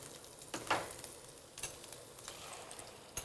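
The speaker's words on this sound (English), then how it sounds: "I'm just gonna add them here with all of my little vegetables simmering." Beaten, scrambled eggs hit a hot pan of simmering vegetables, setting off a loud, steady frying sizzle that swells and crackles up close with a few sharper spits and no talking.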